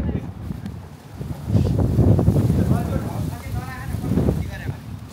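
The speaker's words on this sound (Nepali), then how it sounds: "यस्तो चिसो हावा लागेको छ" Cold wind blows outdoors on a festival day, gusting and buffeting the microphone in swelling low rumbles, with a voice speaking briefly over the noise.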